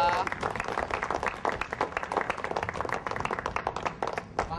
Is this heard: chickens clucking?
no